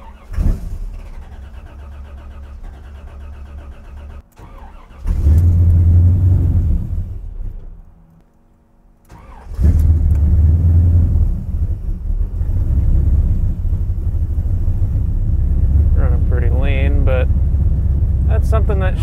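A car with a 430-horsepower engine cranks and fires after a hard start, then its engine idles with a loud, steady rumble. A short lull comes before it revs back up, and someone talks over it.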